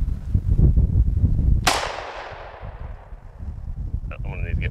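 A single loud gunshot cracks out mid-clip during a test of firing at a Kevlar ballistic panel, its blast ringing off into a long fading tail, with people talking before and after.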